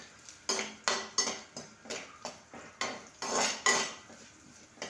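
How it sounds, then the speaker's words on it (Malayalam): A spoon stirring fish curry with green chilli and ginger in a metal pot, giving about ten sharp rhythmic scrapes and clanks against the pot with short pauses between strokes. "ഇനി നമുക്ക് ഇതൊന്ന് ഇളക്കാം നന്നായിട്ട് ഇളക്കി കൊടുക്കാം"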